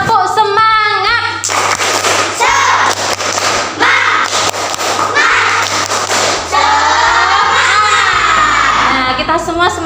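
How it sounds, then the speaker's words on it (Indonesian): Schoolchildren seated in an Indonesian classroom doing a rhythmic spirit clap, loud patterned bursts of clapping and chanting voices, with a steady hum beneath. "coba kita mau tepuk semangat dulu bersama-sama"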